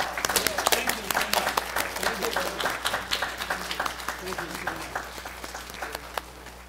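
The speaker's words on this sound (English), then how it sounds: "Round of applause." An audience claps at a forum on human rights in China, the applause starting strong with distinct sharp claps, then thinning into scattered, fading hand claps toward the end.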